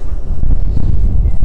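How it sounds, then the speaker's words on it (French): Gusty wind buffets the microphone outdoors, a loud, rumbling low roar that surges and dips continuously for the whole moment. "Un petit vent quand même."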